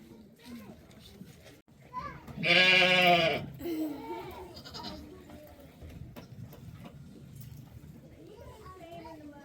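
Goats and sheep on a farm give out a loud, close bleat, followed by softer bleats and calls, with people talking throughout.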